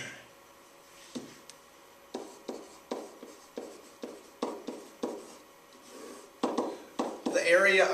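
Pen or marker strokes scratch across a board or paper in short repeated bursts, close and moderately loud, growing busier toward the end.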